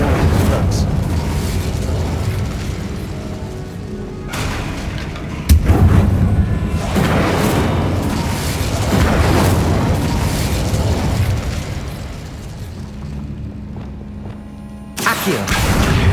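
Incendio fire spell blasts in the Hogwarts Legacy video game, with several booming bursts and a sharp crack near the middle, layered over ongoing combat rumble and effects with shifting loudness.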